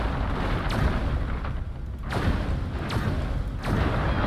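Explosions tear through a city in the Destroy All Humans! video game: a dense, loud, rumbling barrage of booms and thuds with several sharper blasts punching through every second or so, with no talk over it.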